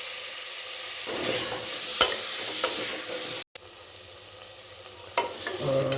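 Chopped tomatoes hit a hot pan with turmeric and begin cooking, a steady sizzle with stirring scrapes that cuts out briefly halfway and then resumes, no voices.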